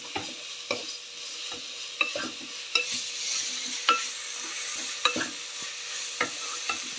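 Carrot rice seasoned with salt being stirred in a pan, a spoon scraping and clacking against the metal in a steady series of sharp strokes over a soft, constant sizzle.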